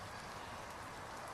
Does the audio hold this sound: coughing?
no